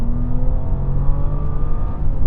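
A car launches hard from a brake-boosted start with no launch control, its engine roaring loud and close in a steady, strained acceleration for a couple of seconds.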